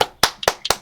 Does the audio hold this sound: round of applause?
yes